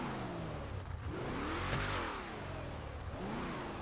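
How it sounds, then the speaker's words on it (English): A Dodge Charger engine in a city driving video game revs up and down repeatedly, a loud continuous growl with rising and falling pitch sweeps, heard alone without talk. "When you just listen to the actual engine noise that's in this, like sound, is from the real Charger."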